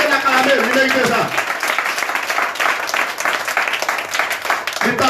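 A church congregation bursts into applause, dense clapping that swells after a voice at the start and carries on steadily with scattered voices mixed in.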